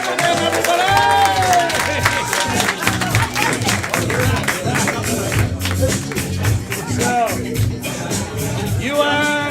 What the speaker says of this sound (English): Give it up for them, everybody!